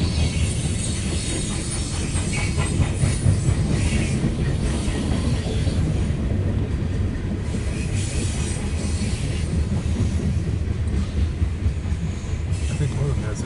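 A loaded CSX coal train rolls past, its wagons giving a steady heavy rumble with wheel clatter and faint squeal throughout.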